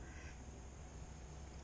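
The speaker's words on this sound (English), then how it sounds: "We got some duck action going on, coming after the dog food." Ducks quacking while coming after dog food near water, a faint, brief cluster of calls early on over steady outdoor background noise.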